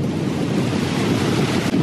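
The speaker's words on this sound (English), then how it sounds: "Very windy right now." Strong wind roars steadily across the microphone at a beach in Placencia, Belize, with the low wash of surf beneath it and no voices.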